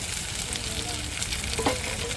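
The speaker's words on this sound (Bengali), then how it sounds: "এবার দিয়ে দেবো আমি টমেটো কুচি" Chopped tomato goes into hot oil with reddish-fried onion in a frying pan while a fish curry is being made, giving a steady, close sizzle and frying hiss that runs continuously, with a brief stir or clatter near the end.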